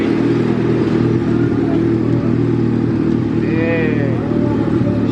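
A turbocharged all-wheel-drive Honda Civic wagon engine revs hard and loud, its droning tone rising and wavering as it runs into boost cut, with voices talking over the engine noise.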